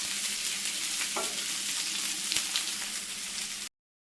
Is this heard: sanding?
no